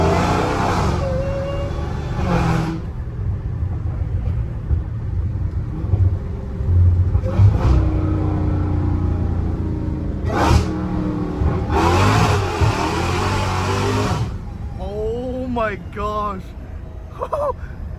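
A Dodge Hellcat Redeye roars as its engine is revved, loud and close, with a heavy rumble and repeated surges rising and falling, while people talk over it.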